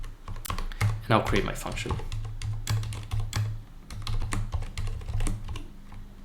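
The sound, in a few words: typing code on a computer keyboard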